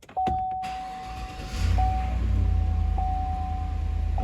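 A Chevrolet Tahoe is started with a freshly programmed remote key fob: a short click and thump are followed by a repeating chime, then the engine fires and settles into a steady idle rumble beneath the chime.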